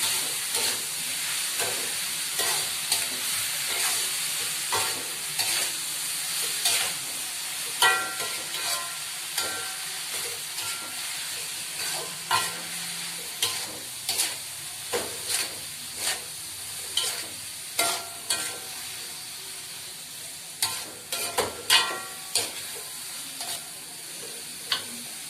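Bitter melon stir-fried in a wok scrapes and clatters under a spatula, with a soft steady sizzle and repeated sharp stirring clicks, close and fairly quiet, no talking.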